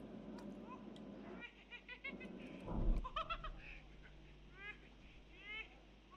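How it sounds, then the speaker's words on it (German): A goat bleating outdoors in the video game SCUM: faint, wavering bleats drift in from a distance amid quiet ambience and a few soft thumps. "Weil da draußen meckert jetzt auch irgendwo eine Ziege."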